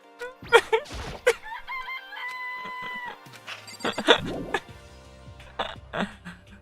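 Chickens cluck and a rooster crows in Danganronpa, a string of sharp close clucks and squawks with a short musical jingle in between, loud and alone without speech.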